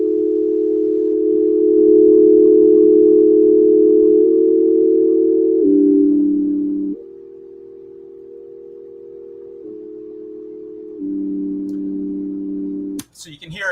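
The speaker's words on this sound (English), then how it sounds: "The other half of the tape is a little tritone, sort of slightly detuned sine wave tritone." A slightly detuned sine-wave tritone played back from tape holds steady, then steps to new pitches in smaller-than-semitone shifts over several sustained segments, ending with a brief click.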